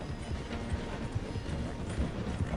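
A horse gallops in the video game Red Dead Redemption 2 while racing alongside a slowing train: rapid, steady hoofbeats, moderately faint under a continuous rumbling background.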